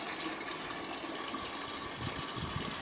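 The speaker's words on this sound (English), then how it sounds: "Fill the evaporator with water until the water level is just" Steady rushing of water pouring into an irrigation evaporator, filling it up to the level line, a continuous broadband gush that stays even throughout, close by.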